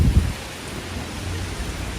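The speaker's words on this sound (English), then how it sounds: "we're ready for the rain." Rain at night at Shinjuku South Exit in Tokyo: a steady wash of rainfall with a low rumble at the very start, then an even, moderately loud hiss with no voices.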